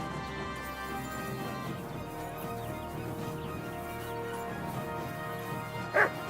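Dog barks and whimpers in the medieval role-playing game Kingdom Come: Deliverance II, steady under game music and ambience, with a sharp louder burst near the end.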